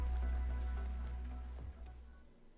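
Rain falls steadily in a quiet outdoor park scene from the Arknights story, a soft, even patter that slowly fades toward the end, with a faint low hum beneath it.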